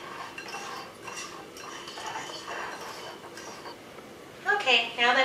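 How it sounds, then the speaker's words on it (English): A fork scrapes and stirs crust ingredients coated in melted butter, a low continuous mixing rustle under quiet kitchen background, ending in a few brighter metallic clinks against the pan. "With a fork, you're going to blend these ingredients together until they're all coated."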